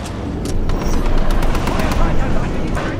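Rapid automatic gunfire in Titanfall 2, loud dense shots rattling continuously over a low rumble, with someone talking over the shooting.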